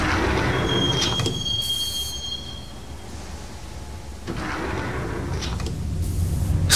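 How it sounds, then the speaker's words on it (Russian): A subway train in Max Payne pulls away from the station, wheels squealing in high drawn-out tones over a rumbling roll, with a brief lull before the clatter builds again. "двери вагона уже захлопнулись за мной, и поезд тронулся"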